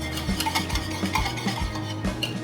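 A tablespoon of olive oil being stirred into bread dough ingredients in a bowl: rhythmic, close wet stirring strokes repeating about twice a second, with light clinks of the utensil and no voices.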